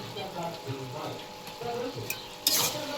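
Mixed vegetable curry, seasoned with vegetable masala, gets stirred in a pan with soft scraping and a faint sizzle, quiet and close, ending with a brighter clatter of utensil against metal.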